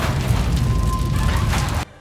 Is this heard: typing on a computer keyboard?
no